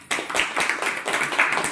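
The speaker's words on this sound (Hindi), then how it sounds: "हाँ ताली बजाओ" A crowd at a Hindi church sermon claps hands in a steady run of sharp, overlapping claps, fairly close and loud, with no talking.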